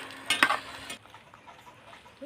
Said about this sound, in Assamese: প্ৰসাদত খোৱা চানাটোৱে ভাজি দিলোঁ